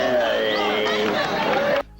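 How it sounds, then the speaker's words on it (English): A crowd at a basketball game cheers in a dense, roaring wash of voices that holds steady at high volume, then cuts off abruptly. "Listen to that crowd"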